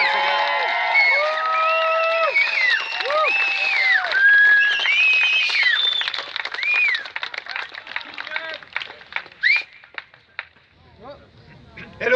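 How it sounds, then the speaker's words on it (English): A rally crowd in Hamilton, Ontario applauding and cheering for Maxime Bernier at a People's Party of Canada event, with loud whoops and whistles over dense clapping that gradually thins out into scattered claps. "All right, Mr. Max Bernier, let's put your hands together."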